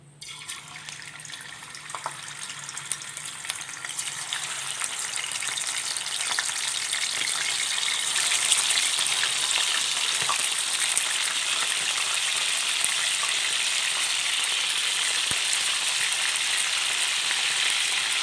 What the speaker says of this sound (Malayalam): എണ്ണയൊക്കെ ചൂടായിട്ടുണ്ട് ഇനി ചിക്കൻ കഷ്ണങ്ങൾ ഇട്ട് കൊടുക്കാം